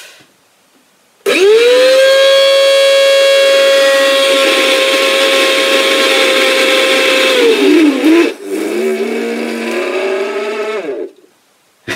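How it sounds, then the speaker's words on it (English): A faulty Goblin handheld vacuum cleaner runs with a loud, strained whine that holds steady for several seconds, then wavers and dips before rising again and cutting off; no one talks over it. "this is what a Goblin handy shouldn't sound like"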